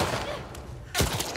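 Gunfire in The Last of Us Part II: a faint shot followed by a louder, sharper crack with a brief rumbling tail, both short and set against dim background ambience.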